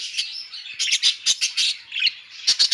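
Pet birds in an aviary chirp and squawk in quick, close bursts, several short tweets in a row with brief pauses between them.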